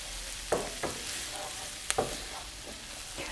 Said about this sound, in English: I'm going to saute these vegetables till they just get soft